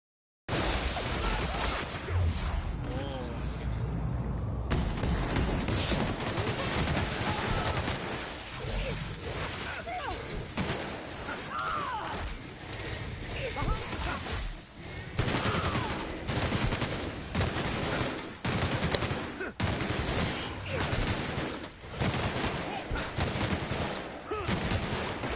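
LMG machine gun in the video game The Outer Worlds firing long, dense sustained bursts with rapid rattling shots, loud and close, broken by brief pauses, with occasional impacts and shattering mixed in.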